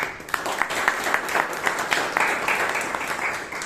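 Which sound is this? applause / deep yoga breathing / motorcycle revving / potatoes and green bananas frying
applause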